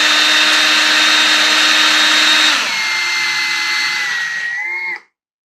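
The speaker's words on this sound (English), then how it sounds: "This is the stripmeister stripper. It runs over with my electric drill. So we're going to just feed this and let it cut it." A Stripmeister wire stripper driven by an electric drill whines loud and steady as it cuts through scrap copper wire, the motor pitch dropping partway through before stopping abruptly.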